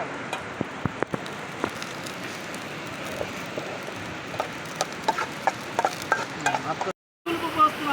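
Chopped onion fries in a pan with a soft, steady sizzle and scattered crackles close by, interrupted once by a brief silent gap.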